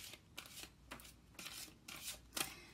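Tarot cards are shuffled in quick repeated riffles, a crisp papery flutter recurring about every half second, close and fairly quiet.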